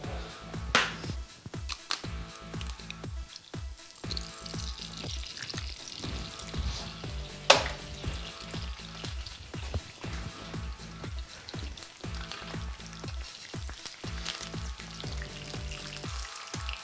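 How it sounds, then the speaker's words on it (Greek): An egg sizzles and crackles as it fries in a pan for a croque madame, a steady dense hiss with scattered pops and one sharp clatter midway. "θα σπάσουμε ένα αυγό, θα το τηγανίσουμε."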